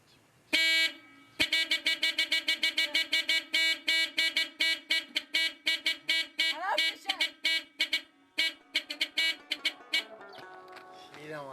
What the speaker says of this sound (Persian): یک بوقی بزنم